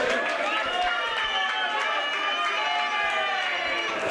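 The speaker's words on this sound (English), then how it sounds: "Big round of applause, please. Simon Fitzsimmons." A crowd cheers and applauds Simon Fitzsimmons at a Taom Shootout pool event. The roar is steady and loud throughout, with voices mixed into it.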